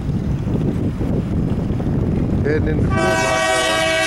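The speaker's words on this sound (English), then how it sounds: "Here's the Norfolk Southern 234." Norfolk Southern freight train 234 led by a Union Pacific locomotive, rumbling loudly nearby with wind buffeting, then a sustained multi-tone horn blast sounding through the final second, with brief speech early on.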